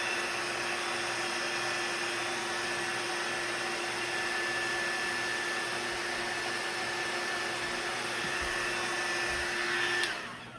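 A hair dryer blows steadily at close range over a Frosty snowman figure, a continuous even whir with a tonal hum that runs unbroken and cuts off near the end, with no voices.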